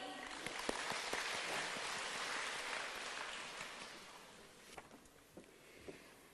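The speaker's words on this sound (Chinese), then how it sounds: "让我们掌声欢迎。" Audience applause at a gathering of practitioners sharing their experiences, a soft steady patter of clapping that fades gradually toward the end, with a few louder claps near the close.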